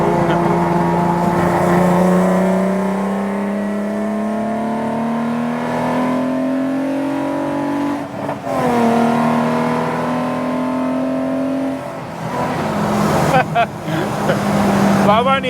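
A Ford Cortina estate fitted with a Cosworth V6 revs hard from inside the cabin, a loud, steady engine drone climbing through gears with brief dips at shifts and a final throttle surge.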